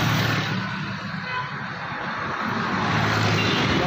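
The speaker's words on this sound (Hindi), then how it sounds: "गाड़ी का साउंड दिए हुए" A 2005 Honda City automatic with a fuel fault and unsteady rpm runs at a steady idle, producing a continuous close engine drone with a low hum and broad hiss and no talking.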